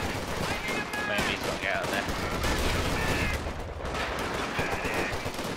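Steady gunfire and rattling bursts from a Company of Heroes 2 co-op battle run continuously at fairly close range, with a voice talking over it throughout.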